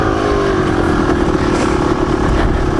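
A dirt bike engine on an enduro trail ride holds a loud, close, steady drone at an even pace, with a faint rise and fall in pitch and no speech over it.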